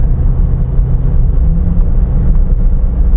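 A GM LS3 V8 in a 2007 Jeep JK Unlimited with a 6L80 transmission, a loud steady low engine rumble as it downshifts in the manual gate, droning continuously with no speech.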